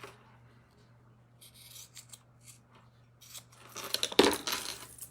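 Scissors cutting a fabric strap for a suspender skirt, a few soft snips followed by a louder burst of crisp rasping cuts near the end.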